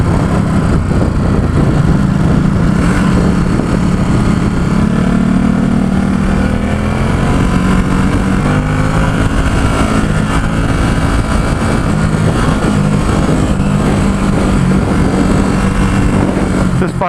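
A 2017 Ducati SuperSport S accelerates hard on a test ride through San Francisco, its engine roaring loud and close with rising revs, buffeted by wind noise and with a voice talking over it.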